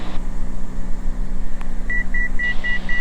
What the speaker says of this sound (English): That beeping is because I have it set for 35. So when it's within 200, it's letting you know that, oh, you're getting off your altitude.